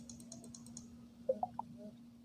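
A computer mouse clicking the text size button in Microsoft Word, three quick, close clicks in a row over a low steady hum, with faint tapping just before.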